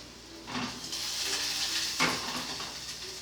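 Rice frying in a pan: a soft, steady sizzle with stirring scrapes and a couple of brief surges, quiet and close, with no talk.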